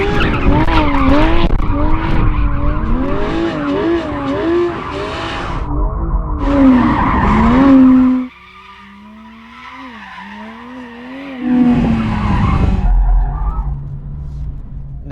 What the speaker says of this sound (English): I think these tyres will be fine as long as I get some heat into them, so I'm just going to warm them up.